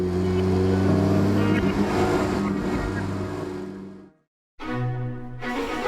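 An Alfa Romeo 4C sports car with a 240 hp engine driving at high speed, a loud, steady engine drone with strong low harmonics, cutting out briefly before resuming.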